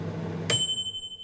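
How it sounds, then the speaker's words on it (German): A microwave oven ding, one bright ringing chime that sustains and slowly fades, followed by a second sharp onset at the end, heard alone over a low background hum. "Das ist eine Mikrowelle. It's a microwave."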